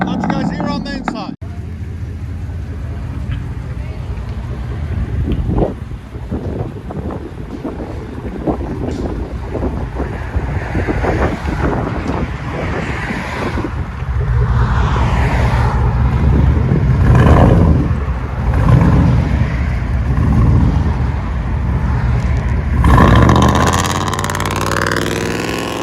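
A 2007 Chevy Silverado with a true dual exhaust, heard from inside the cab as a steady low engine rumble that swells louder through repeated revs in the second half, with a voice talking over it.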